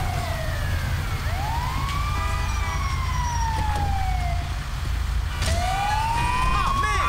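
A fire engine siren in the video game GTA V wails in long rising and falling sweeps over a loud constant engine rumble, close and continuous with a second siren pattern starting near the end.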